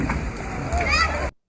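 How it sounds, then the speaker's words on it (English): Splash of people jumping off a giant rock into water, a brief wet crash and spray near the listener, mixed with voices of onlookers before cutting off abruptly. "Splash!"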